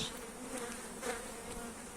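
Honeybees at a hive buzz and hum close by, a dense droning swarm with small rises and falls in pitch, and no voices.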